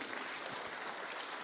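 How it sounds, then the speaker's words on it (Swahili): Applause for guests at a county assembly gathering, a steady broadband clatter of many hands clapping throughout with a faint voice underneath. "tuwapigie makofi ingine"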